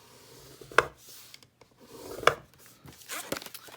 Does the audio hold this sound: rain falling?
no